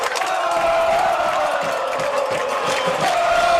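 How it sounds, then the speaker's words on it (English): A high school junior varsity basketball crowd roars in a loud, sustained wash of cheering and shouting during an overtime game, with no individual voices standing out. "You can hear the crowd."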